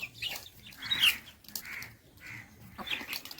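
Dega breed roosters clucking close by, a series of short, sharp calls in irregular bursts, with no talk over them.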